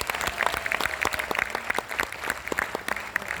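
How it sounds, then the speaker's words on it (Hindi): An audience at a humorous poetry recital claps in a lively burst, many hands overlapping with some individual sharp claps standing out, close and moderately loud, with faint crowd murmur underneath. "मेरी दुआ पे ताली ज्यादा बजाना सदन"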